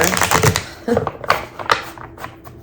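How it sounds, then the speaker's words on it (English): Tarot cards being shuffled in the hands, with irregular riffling and slapping bursts close by, mixed with soft voice sounds. "I'm going to stop shuffling exactly at 2:22:22."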